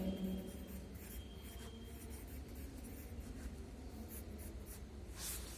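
Chalk or pen scratching steadily across a board or paper in a Hindi lesson for a third-grade class, quiet close strokes in a continuous run with no talking.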